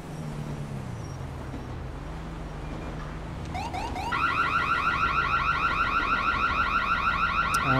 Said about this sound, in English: Sounds like someone's house alarm's going off.